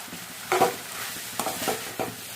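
A ground mixture tipped into a sizzling tempering of urad dal, chana dal, dried chillies, cumin, curry leaves and garlic for ivy gourd coconut curry, giving a hissing sizzle broken by three distinct scraping stirs of a spoon in the pan.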